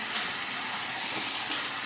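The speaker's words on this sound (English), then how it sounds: "warm it under the hot water" Hot tap water runs steadily into a ceramic shaving lather bowl, a close, continuous splashing hiss lasting the whole moment.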